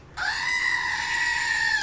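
A goat bleat plays as a live stream gift sound effect, one loud sustained cry that runs almost two seconds and sits alone in the foreground.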